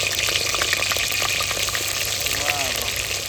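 Chopped onion sizzles and fries steadily in hot oil for an aubergine oro dish, a dense continuous crackle with bubbling spatter close by, and faint voices in the background.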